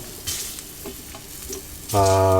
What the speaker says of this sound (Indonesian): Bawang putih kita goreng asal saja, tidak perlu terlalu